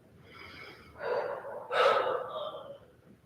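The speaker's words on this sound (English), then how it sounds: "Again, taking another deep breath here." A yogi draws two audible breaths during a Warrior Two flow, a soft inhale followed by a stronger, rushing breath, close to the mic in a quiet room with no talking.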